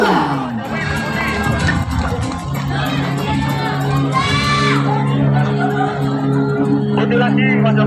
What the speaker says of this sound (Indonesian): Dan kembali kita berikan aplaus yang meriah kepada Kurnia Batik Tulis Tuban.